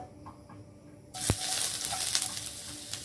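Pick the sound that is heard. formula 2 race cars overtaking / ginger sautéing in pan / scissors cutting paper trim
ginger sautéing in pan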